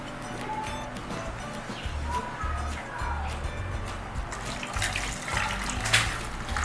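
Rice is washed in a basin of water, with swishing, splashing and running-water noise under low background rumble and a brief louder splash near the end; a voice can be heard faintly.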